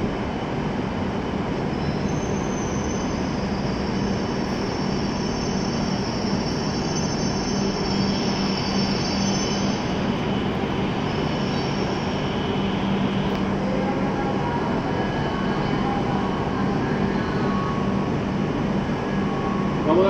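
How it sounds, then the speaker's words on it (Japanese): A Hokuriku Shinkansen W7 series train pulls into a platform at Kanazawa Station, a steady loud rumble with a faint high whine and brief squeal, continuous for the whole stretch with station ambience. "列車停車いたしますとホームの柵が開きます。"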